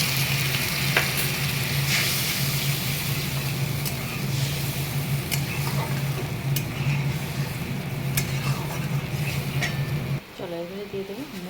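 Spice mixture with a green chilli frying and being stirred in a pan over a low flame, a steady close sizzle with scattered scraping ticks, ending in a brief quieter stretch near the end.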